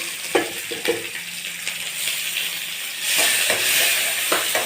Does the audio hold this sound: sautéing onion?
yes